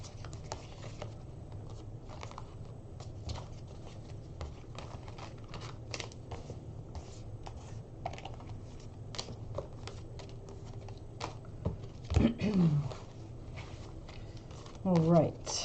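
A deck of cards is shuffled, giving soft, quick riffling clicks and light patter throughout. A quiet voice talks over it, and a few louder bumps come near the end.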